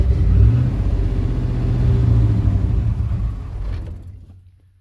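A 1800hp 347 car engine held at full throttle roars loudly and steadily with deep low rumble for about four seconds, then cuts off and fades to near silence.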